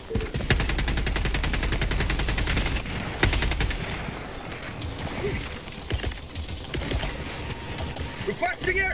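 Sustained rapid automatic gunfire from Helldivers 2 rattles loud and close as a whole magazine is emptied in two long bursts, followed by mechanical reload clicks and scattered combat noise.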